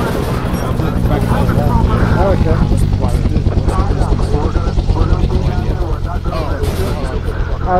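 Helicopter in the military game ARMA 2, a steady dense rotor and engine drone running loud through the whole stretch, mixed with gunfire-like bursts and voices talking over it.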